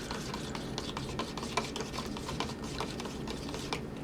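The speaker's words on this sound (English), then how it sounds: "Mix that up until the salt is pretty well dissolved." Salt is stirred into vinegar to dissolve it, a soft, close, continuous scraping and clinking of a utensil in a container, fairly quiet and steady.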